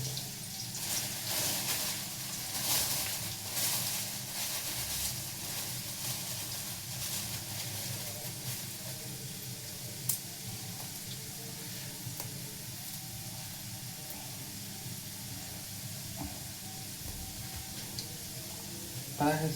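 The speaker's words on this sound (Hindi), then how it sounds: "थोड़ा सा प्याज गर्म होने दे रहा हूँ।" Onion heating in a pan sizzles as a soft, steady hiss with occasional stirring clatter, quiet and close, while someone talks over it.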